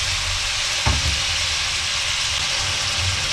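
Chicken masala frying in hot oil: a steady, dense sizzle that runs unbroken throughout, with one brief clink partway through.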